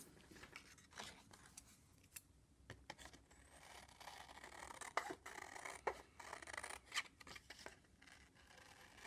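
Scissors cutting out a paper butterfly wing for a pop-up card, giving a series of crisp irregular snips and paper rustles at close range, quiet overall.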